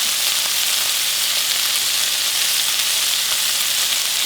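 Hamburger steaks frying in a hot pan, a loud, continuous close-up sizzle with steady crackling hiss and no talking.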